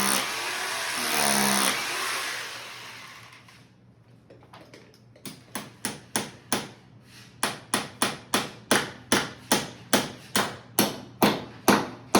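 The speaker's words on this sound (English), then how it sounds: "That's how you use a hammer there." After a brief whirring power-tool burst, sharp hammer blows ring out close by, steady and quickening to about two strikes per second.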